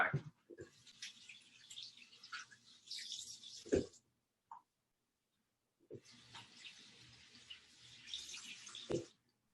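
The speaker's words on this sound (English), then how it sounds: "let me wash my hands" A kitchen tap runs while hands are washed, two bursts of splashing water a couple of seconds apart with a silent pause between, close and moderately loud, no talk.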